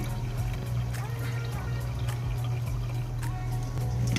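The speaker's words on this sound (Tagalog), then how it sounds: "Maglagay ng tubig." Water pours into a cooking pot on a stove for shrimp sinigang, a steady, moderately close splashing trickle lasting throughout, with soft clinks and no speech.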